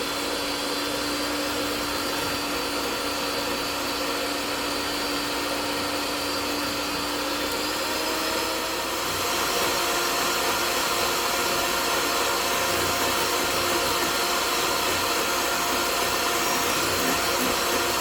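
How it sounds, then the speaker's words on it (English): An electric hand mixer beats egg yolks and sugar at high speed, giving a loud, steady motor whir that runs unbroken for the whole stretch and shifts slightly in pitch partway through, with no voices. "Use the mixer, roughly beat it up, and then start beating at high speed."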